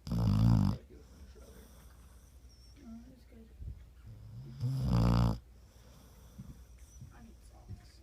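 A dog snoring: two loud, rasping snores about four seconds apart, close by, each lasting under a second, with quiet snuffling between and brief talk in the room.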